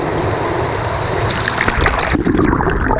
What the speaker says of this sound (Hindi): और ये गया गोप्रो पानी के अंदर।